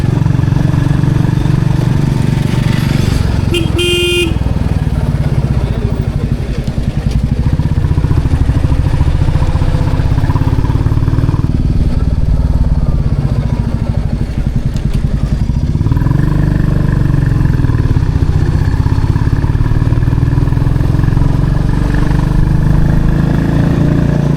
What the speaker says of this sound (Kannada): ಸೂಪರ್ ಸೂಪರ್ ಬುಲೆಟ್ ಅಂದರೆ ಅದಕ್ಕೆ ಬುಲೆಟ್ ಅಂತ ಕರೆಯೋದು.